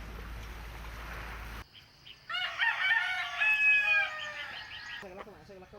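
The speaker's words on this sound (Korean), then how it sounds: "닭울음 소리가 아침을 깨운다." A rooster crows in the morning in a fishing village, one loud, close cock-a-doodle-doo lasting a few seconds after a burst of broadband noise cuts off, with faint clucking afterward.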